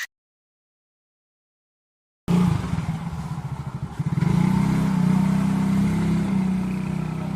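A road race motorcycle from workshop 124 Bojonegoro, reported as having a problem, is started on a stand. After a silent pause the engine catches, runs rough and uneven for a moment, then settles into a loud, steady revving drone.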